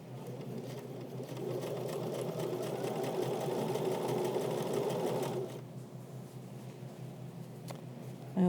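Sewing machine stitching down the hem of cropped jeans, a steady close whirring run of fast needle strokes that stops abruptly partway through, leaving a quiet room tone and a faint click.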